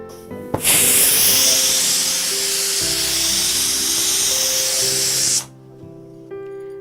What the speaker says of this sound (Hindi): देखिए कुकर की स्टीम पूरी तरीके से निकल चुकी है।